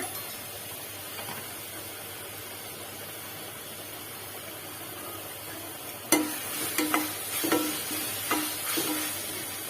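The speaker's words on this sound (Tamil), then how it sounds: "இதோட பச்சை ஸ்மெல் போற வரைக்கும் நல்லா வதக்கிக்கோங்க" Steady sizzle of ginger, garlic and turmeric frying in a pan for chicken gravy, then a series of spatula scrapes and clinks stirring it near the end.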